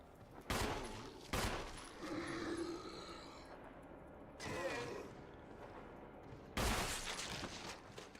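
Gunfire from the video game Resident Evil 1 during a headshot: loud, sharp blasts with short echoing tails, mixed with game roars and mechanical sounds.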